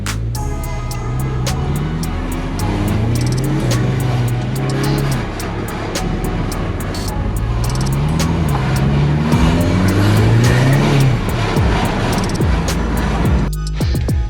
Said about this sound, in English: I'm actually driving the Golf R. It's driving, it's got power, it's spinning 4 wheels.